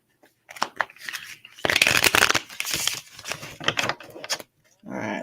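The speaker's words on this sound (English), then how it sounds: "All right, one more shuffle for Leo." Tarot cards are shuffled in quick riffling bursts, loud and close, with short pauses between, and a brief murmur at the end.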